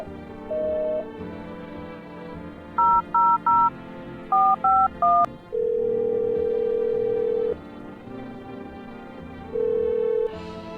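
Telephone keypad tones in the horror game No, I'm Not Human: a single beep, then two quick bursts of three tones each, followed by long steady tones with pauses between them, clear and close with no talking.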